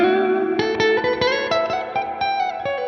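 Electric guitar through a Mesa Boogie amp model in AmpliTube 5, channel 1 with reverb added: a run of picked notes and chords, each attack ringing out into a lingering reverberant tail, played alone.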